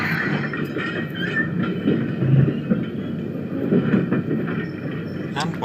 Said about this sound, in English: the whole train needs to move forwards without the brake van